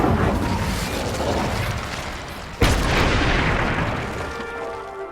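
Incendio fire spell cast in the video game Hogwarts Legacy, a dense roaring whoosh with one sharp burst midway, loud and without speech.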